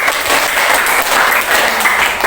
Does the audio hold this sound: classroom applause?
yes